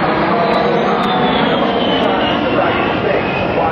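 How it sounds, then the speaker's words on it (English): An A-10 Warthog's turbofan engines roar steadily and loudly as the jet flies close at a 2006 airshow, the broadband noise continuous throughout. "he will fly his aircraft straight into the vertical, demonstrating the A-10's power and maneuverability in all attitudes of flight"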